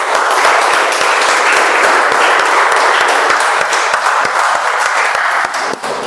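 Toastmasters meeting audience applauding after two speeches, a steady dense wash of clapping at close range with no talk, sustained evenly for about six seconds.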